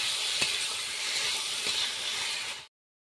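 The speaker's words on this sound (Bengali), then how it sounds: "ওর মধ্যে দিয়ে দিচ্ছি ভেজে রাখা আলু। 1 থেকে 2 মিনিট কষিয়ে নেব।" Fried potatoes sizzling loudly in spice paste in a pan, a dense continuous hiss with a couple of faint stirring taps, close and steady until it cuts off abruptly.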